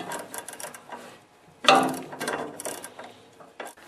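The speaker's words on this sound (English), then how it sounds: "And make sure you tighten up the bolt." Clicking ratchet work on a bolt of a Honda snowblower auger gearbox, a few short bursts of metallic ratcheting close by, quiet, with a louder clatter midway and faint handling noises.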